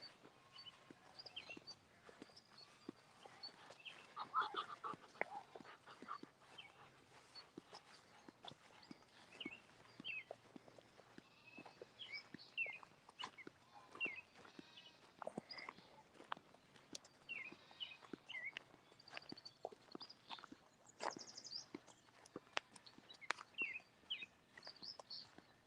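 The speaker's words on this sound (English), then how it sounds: "Can you guys hear all the different birds?" Many different birds chirp and call on a farm with goats and cows, small varied songs scattered throughout at a moderate distance, with occasional soft footsteps or shuffling nearby.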